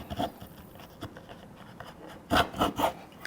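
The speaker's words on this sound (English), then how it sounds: "my little mini planer, it is grabbing stuff really good" A small mini hand planer shaves a wooden workpiece in short rasping strokes: a few faint passes first, then three louder, close shaving pulls near the end, with no talking.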